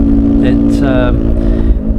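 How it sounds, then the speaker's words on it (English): A Himalayan 450 or Fantic Caballero motorcycle with an aftermarket exhaust idling and revving, a loud, close, rumbling engine note throughout with a brief voice over it. "it sounds fantastic with that exhaust on it, and it goes really well"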